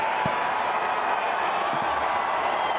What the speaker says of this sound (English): What a roar from the crowd.